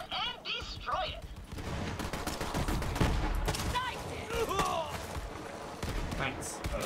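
Gunfire in the video game Borderlands 3 crackles in rapid bursts of shots over a busy, loud game soundscape, with player voices talking throughout.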